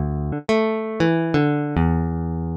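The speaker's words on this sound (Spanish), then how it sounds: "al aplicarle Effector, termina sonando como una guitarra eléctrica." Guitar string notes played through FL Studio's Effector amp effect, several plucked tones with a bright, distorted electric-guitar ring, each sustaining and decaying before the next.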